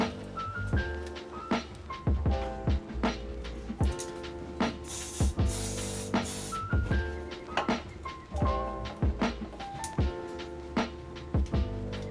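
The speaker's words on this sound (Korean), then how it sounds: "이 가스 스프레이로 여기에 분산을 해줍니다" A burst of gas hair spray hisses for a couple of seconds over steady background music with plucked, rhythmic notes.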